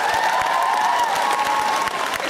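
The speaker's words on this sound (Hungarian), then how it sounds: "szerintem megérdemel még egy taps." Audience applause at a cosplay performance competition, dense sustained clapping from a crowd throughout, loud and close, with a faint tonal hum beneath.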